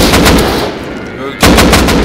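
Gunfire in the video game Rust, loud close bursts of rapid shots that break off briefly near the middle and then resume just as hard.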